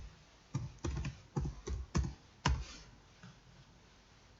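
A handful of computer keyboard keystrokes clicking in short, uneven bursts as a password is entered, close and fairly quiet, then a pause before one last tap.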